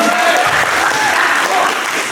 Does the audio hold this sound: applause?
yes